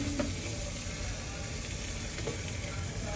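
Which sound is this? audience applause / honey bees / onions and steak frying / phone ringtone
onions and steak frying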